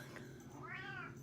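A cat gives a single short, close meow, rising and falling, over a faint steady background hum.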